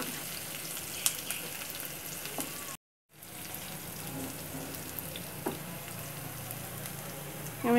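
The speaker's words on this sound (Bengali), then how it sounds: "আমি পেঁয়াজটাকে একটু ভেজে নেব।" Onions frying in a pan: an even, soft, hissing sizzle with small pops, broken by a brief gap of silence before the frying sound returns at the same level.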